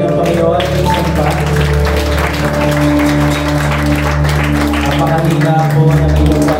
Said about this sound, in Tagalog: palakpakan po natin ang Panginoon